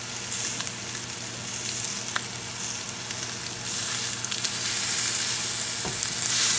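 A ribeye steak sizzles on a cast iron griddle: loud, continuous frying crackle and hiss with scattered pops, building slightly toward the end.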